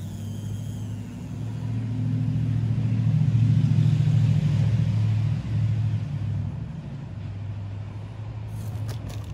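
An Axial SCX24 RC crawler fitted with metal axles climbs a steep slope, its small motor whirring steadily close by, swelling louder in the middle of the climb and then easing off, with no talking.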